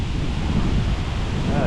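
Strong wind buffeting outdoors during rain near a poplar limb, a loud continuous low rumble filling the short stretch without breaks.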